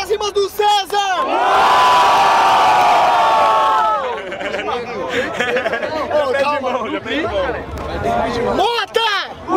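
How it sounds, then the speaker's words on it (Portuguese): A crowd at a rap battle roars and cheers in a long loud burst after an MC calls out, then settles into shouting and chatter with scattered whoops, and swells again near the end. "Barulho pra as rimas do César!"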